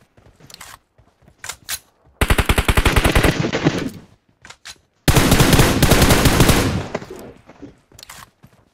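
Gunfire in PUBG Mobile on the Livik map: scattered single shots, then two long, loud automatic bursts lasting a second or more each, followed by more sporadic shots.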